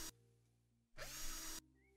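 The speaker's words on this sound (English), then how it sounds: "Oh, they got a little drill sound in there." A power drill whirs in one steady burst of about half a second while an air conditioner is assembled in the game House Flipper, set against a quiet background hum.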